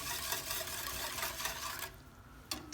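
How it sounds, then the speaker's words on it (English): Sugar whisked into liquid for kombucha: a soft, steady swishing and stirring texture for about two seconds, then a pause and a brief clink, faint and close. "and whisk that together."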